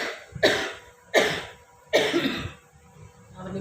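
Three harsh coughs, close and loud, spaced about a second apart with a quiet breathy tail after the last.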